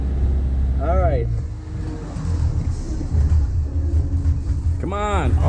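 A Subaru engine rumbles and revs through its exhaust at close range, loud and steady, with a rising tonal sweep near the start and again near the end, and people talk over it.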